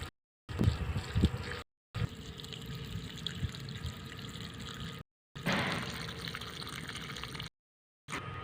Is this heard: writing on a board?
no